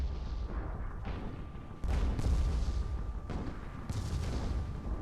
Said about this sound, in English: they're shooting the heavy flaks into armored hulls